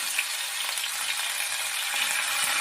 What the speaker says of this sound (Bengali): প্রথমে একটা শুকনো লঙ্কা, একটা তেজপাতা, একটু সাদা জিরে, একটু আদা বাটা দিয়ে